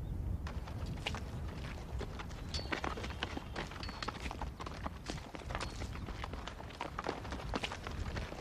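Horses gallop in a steady, dense run of hoofbeats, near and loud throughout, with a constant rumble underneath and no talk.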